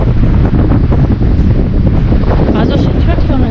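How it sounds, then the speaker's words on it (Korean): Strong wind gusts roar across a microphone outdoors in a remote New Zealand settlement, a continuous loud rushing buffet throughout with faint voices underneath. "오늘 바람 장난 아닌데?"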